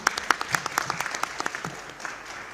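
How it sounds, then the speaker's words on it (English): A conference audience applauds a panel at a civil society convention, with a short burst of moderately distant clapping from a crowd that fades after about two seconds. "A round of applause for our panel."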